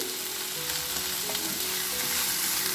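Thick-cut tomatoes fry with onions in a pan while being stirred, a steady dense sizzle up close with light scraping of the utensil, and no one talking.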